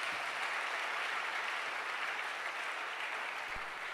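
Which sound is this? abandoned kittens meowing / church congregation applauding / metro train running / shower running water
church congregation applauding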